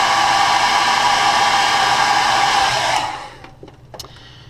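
A heat gun blows a loud, steady, hissing roar while heat-setting paint on a crankbait lure painted in a crawfish pattern. It runs alone for about three seconds, then cuts off and leaves a few faint clicks.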